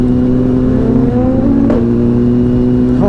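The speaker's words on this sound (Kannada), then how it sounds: "ಅವ್ರದ್ದು ಗಾಡಿಯಲ್ಲಿ ಪಾಪ್ಸು ಭಟ್ ಅಂತ ಹೊಡಿತಾ ಇದೆ" A motorcycle with an aftermarket swing-extended exhaust idles loudly and revs near, its steady engine drone rising in pitch at moments, with a sharp pop around the midpoint and another burst near the end.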